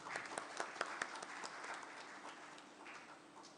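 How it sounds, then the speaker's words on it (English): Audience at a trauma conference in a hall clapping for presenters, a scattered patter of hands with sharper individual claps early, fading to a softer, thinner applause, fairly faint. "A big round of applause."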